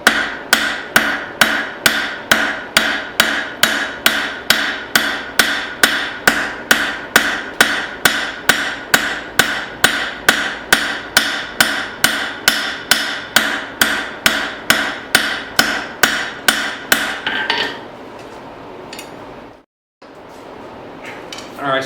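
A cross peen hammer forges a plant hanger on an anvil with loud, close, evenly spaced ringing blows, about two or three per second, for roughly seventeen seconds before they stop.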